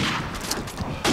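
Rapid gunfire from an M40A3 sniper rifle in Call of Duty 4 Team Deathmatch, with dense overlapping shots and a loud burst near the end, no talking.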